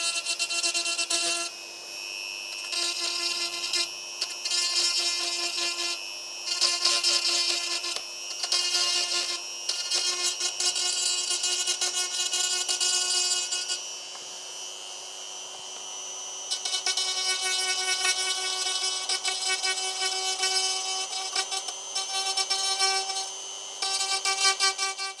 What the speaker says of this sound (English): I'm now going to grab my knotted Dremel and just basically finish cleaning it up